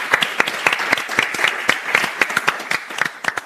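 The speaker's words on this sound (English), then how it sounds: "maybe a round of applause for Claudia for being here" Audience at a Berlin Science Week podcast panel applauds a panelist, a moderate group of crisp, close individual claps in a brisk, uneven patter.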